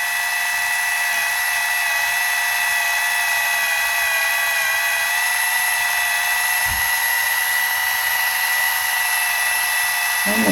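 An electric manicure and pedicure nail drill from a Lidl set runs with a constant high, thin whine held close and steady throughout, with no pauses in the motor's tone.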